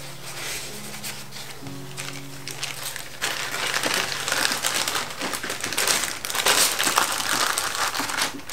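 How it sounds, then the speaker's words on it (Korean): Zipper plastic bag holding garlic being pressed flat and sealed shut, with crinkling, rustling plastic that builds louder in the second half, close and alone. "공기를 잘 빼서 지퍼를 잘 닫아줍니다."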